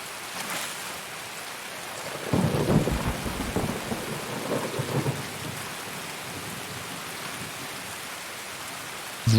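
Heavy rain pours steadily in a video game raid, with deep thunder rumbling loudly for a few seconds in the middle before the downpour settles back to a constant hiss.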